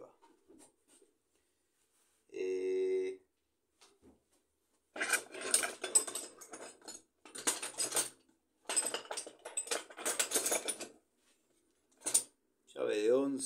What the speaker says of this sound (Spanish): Llave de 11 de un modelo de Bremen.